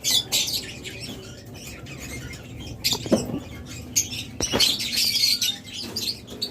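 Pet birds, including lovebirds, cockatiels, Australian doves and budgerigars, chirp and squawk in scattered bursts around a farm aviary, with sharper calls close by and softer chatter behind.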